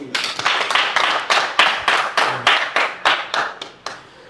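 Hands clap in praise of Jesus Christ during a live religious broadcast. About a dozen sharp claps land in a steady, fairly quick rhythm, close and clear, with no voice over them.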